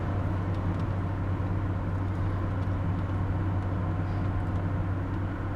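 A 1986 Pontiac Fiero on the road gives a steady, loud engine drone with low rumble and road noise, its pitch holding fairly even and no gear change standing out clearly.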